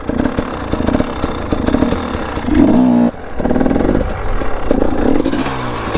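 Dirt bike engine revving hard in first gear through a circle wheelie, a loud, close, raspy drone that rises and falls with throttle, briefly dipping near the midpoint before surging again.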